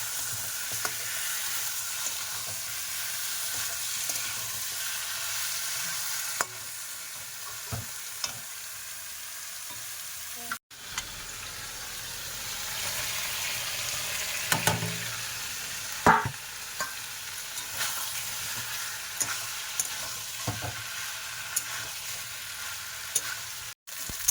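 Meat sizzles steadily as it fries in a pan of spice paste with a little oil, with a constant hiss and occasional scraping knocks from stirring, close and uninterrupted, with no talk.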